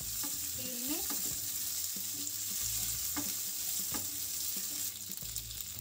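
Chopped green chillies frying in hot oil in a pan, a continuous bright crackle with scraping strokes of a spoon stirring them at intervals, close and alone.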